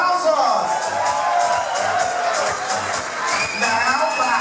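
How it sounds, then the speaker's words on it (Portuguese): A nightclub drag-show audience claps and cheers, with whoops and shouting voices rising over a continuous roar of crowd noise. "Xuxa, cadê os aplausos?"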